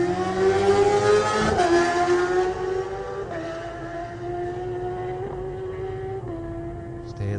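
A BMW superstock racing motorcycle at the Isle of Man TT screams away into the distance, its engine note climbing and dropping through several distinct gear changes as it fades, loud at first then steadily farther off.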